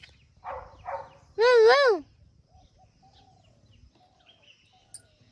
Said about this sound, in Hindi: भौंक रहा।